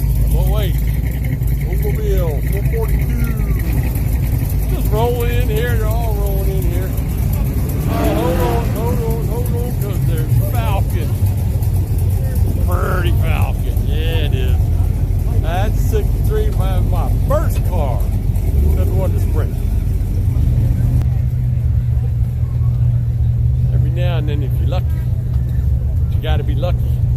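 Hot rod cars, including an Oldsmobile 442, roll in to park at the Ocean City, Maryland Spring Hot Rod Weekend car show. A steady low engine rumble runs throughout under lively talk from nearby people.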